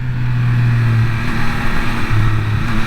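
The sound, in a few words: Triumph Speed Triple 1200 RS motorcycle engine while riding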